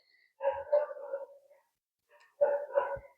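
Dogs in a garden let out two short bursts of barking and yowling, close and fairly loud, separated by a brief pause.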